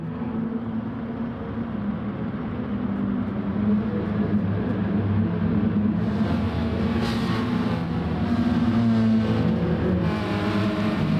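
The Peugeot RCZ Gr.4 race car engine roars in a steady, dense drone at Red Bull Ring in Gran Turismo Sport, holding constant loudness throughout with no talking.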